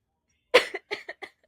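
One harsh cough, close and loud, is followed by a quick run of smaller coughs trailing off into silence.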